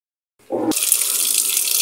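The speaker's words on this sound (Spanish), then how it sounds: "Y vuelve a llenar con más agua." Brief quiet, then water suddenly gushes into a semi-digital Whirlpool washing machine with a strong, steady hissing rush as it fills.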